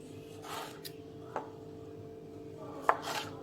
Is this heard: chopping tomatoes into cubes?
yes